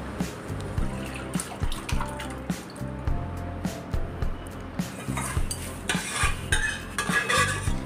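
Dal being stirred into fried spices in a pot for South Indian sambar, with repeated close scraping and clinking of a spoon against metal and wet squishing, steady rhythmic strokes without talk.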